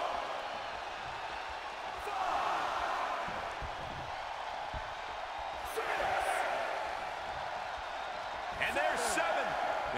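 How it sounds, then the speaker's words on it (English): A wrestling arena crowd roars steadily at an Elimination Chamber event, a dense, sustained wash of voices that swells in waves, with sharp bursts and whoops rising over the din. "The sound of this crowd is deafening"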